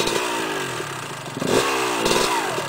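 A dirt bike engine revving on a trail, loud and close, its buzzing note rising and falling through two throttle surges with no talk over it.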